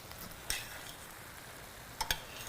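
Vegetables being stirred gently in a cooking pan for a Syrian dish produce a soft background sizzle, broken by a few distinct scrapes or knocks of a utensil against the pan, one early and two close together near the end.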